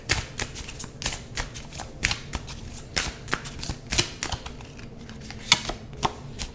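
Mystics Midnight Tarot cards are shuffled and handled up close, giving a steady run of crisp, rapid riffling snaps and flicks.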